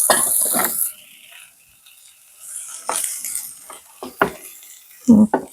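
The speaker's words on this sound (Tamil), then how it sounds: "உருளைக்கிழங்க மசிச்சு எடுப்போம்" Boiled potatoes are mashed in a pan for a potato curry, giving soft squishing and scraping of a utensil against the pan. Scattered clinks and scrapes come close up with quiet pauses between them.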